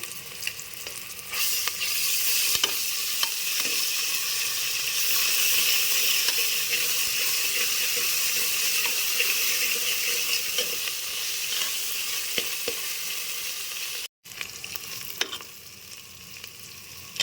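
Ginger garlic paste fries with browned onions in a pot for a country chicken curry, producing a continuous loud hiss and sizzle with faint stirring scrapes and one brief dropout near the end.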